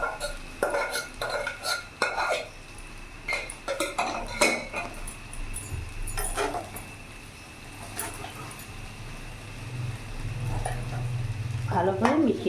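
Cooked rice being stirred into chicken fried rice in a pan, with a steady scrape and clatter of a metal spoon against the pan. A dog barks and whimpers nearby, and a voice talks over the stirring.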